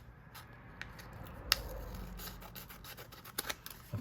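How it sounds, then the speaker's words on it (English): Scissors trimming paper for a no-sew mixed media envelope journal, with a few faint, close snips and rustles spread across a quiet background. "I'm just going to trim it up a little bit."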